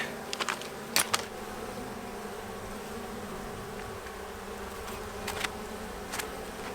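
Honey bees hum steadily and continuously while a colony is opened for inspection in April in Minnesota, with a few sharp clicks and knocks from handling the hive over the constant buzz.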